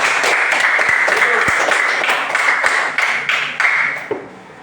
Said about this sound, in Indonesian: Nah, betul, tepuk tangan.